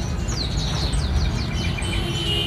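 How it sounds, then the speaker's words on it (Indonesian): Male Himalayan mantenan songbird in a bird shop, singing a quick series of bright, descending chirps and whistled notes, fairly close, over a low steady hum of shop background noise. "Ini mantenan Himalaya dan sudah pastinya jantan."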